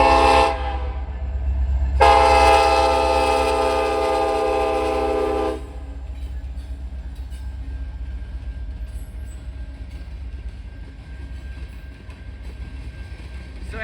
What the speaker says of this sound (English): So, being rudely interrupted by a train.